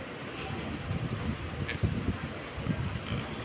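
Low rumbling train noise at a station, with uneven clunks and wind buffeting the microphone, moderately loud and continuous.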